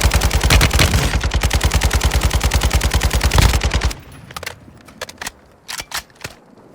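Automatic gunfire in Call of Duty Warzone 2.0 from an MP5 submachine gun: a loud, rapid unbroken burst for about four seconds, then a few scattered distant shots and clicks.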